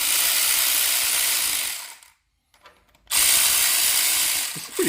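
Ratchet wrench clicking steadily as it loosens the oil pan nuts and bolts on a Honda K24A2 engine, loud and close, broken by a brief pause in the middle before the rapid ratcheting resumes.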